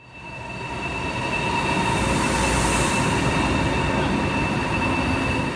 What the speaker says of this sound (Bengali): হাংজো থেকে সাংহাইয়ের উদ্দেশ্যে প্রতিদিন প্রায় 170টি হাই স্পিড ট্রেন কিছুক্ষণ পরপর ছেড়ে যায়।